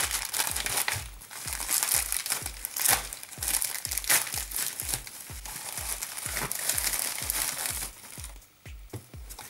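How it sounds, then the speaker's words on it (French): A parcel of Rubik's-type cubes is torn open, its wrapping crinkled and crumpled in close, loud bursts that carry on for several seconds before easing off near the end. "On va ouvrir le paquet et on va découvrir comme d'habitude ce qu'il contient"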